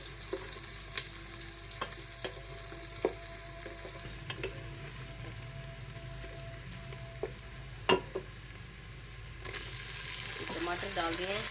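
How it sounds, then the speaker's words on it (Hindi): Onions frying in ghee in a pan, a steady soft sizzle with occasional stirring clicks and scrapes, close and moderately loud, with no talking. "हमने घी में डाल दिया। प्याज हमारे ब्राउन हो रहे हैं।"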